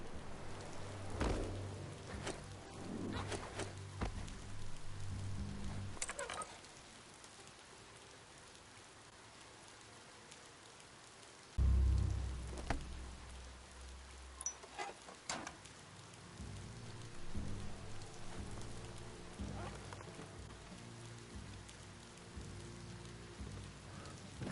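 Rain falls across a landscape in the video game Biomutant, a steady patter of drops on surfaces with occasional heavier thumps and a brief lull partway through, fairly faint and continuous throughout.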